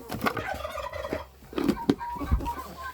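Nearby marsh-breed hens cluck and squawk in short, scattered bursts, with a few sharper calls standing out over a quiet background.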